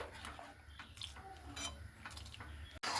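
Sago pearls simmering in milk in a pot are stirred continuously, with a spoon scraping and clinking against the pot over a low bubbling background, steady and close for a few seconds.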